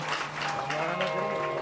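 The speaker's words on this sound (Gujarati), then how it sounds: "એકવાર જોરદાર તાળીઓથી" Applause from the audience at a Shree Ram Katha religious discourse welcomes a visiting storyteller, a steady clapping wash over sustained tonal music, loud and close throughout.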